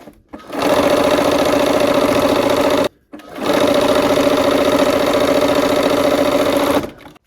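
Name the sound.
sewing machine stitching a quilt block seam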